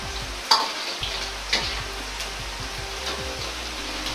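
Batter-coated chikuwa fries in hot oil with a steady, close crackling sizzle. A couple of sharp ladle taps sound early on as the pieces are separated, and soft ticking pops run throughout.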